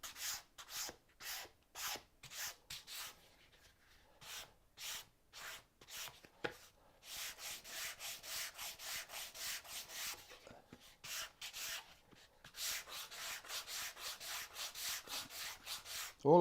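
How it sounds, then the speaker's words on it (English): Rhythmic rasping strokes of a small tilted sanding pad rubbing the edges of a wooden dovetailed jewellery chest, in a steady back-and-forth pattern, faint and close, with a short pause before resuming faster. "I've got my little sanding pad and I've tilted it a tiny little bit"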